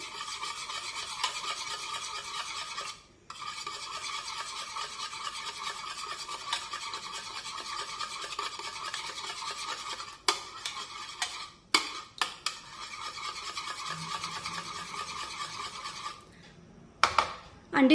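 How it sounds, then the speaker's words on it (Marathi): Beaten eggs are whisked in a bowl with a close, continuous rhythmic scraping and clinking, pausing briefly around three seconds and breaking into a few separate knocks near the end. "ही अंडी आपण छानपैकी फेटून घेऊया।"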